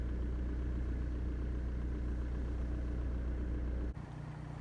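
Nearby car engine idles with a steady low rumble and hum, loud and unbroken, then drops slightly in level near the end.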